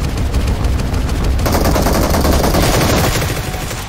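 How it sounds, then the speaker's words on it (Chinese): A firework Gatling gun fires in sustained, dense rapid bursts in the Great Wall–themed mode of a battle royale video game, loud and continuous throughout, with no talking. "因为使用这个加特林的时候枪声太大"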